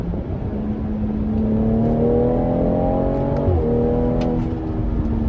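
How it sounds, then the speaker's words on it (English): A 2018 BMW X3 M40i pulls hard up an off-ramp in Sport Plus, its engine note climbing steadily in pitch, dipping briefly on a quick gearshift near the middle, then rising again, loud and close from inside the cabin. "Do a little pull here on the off-ramp."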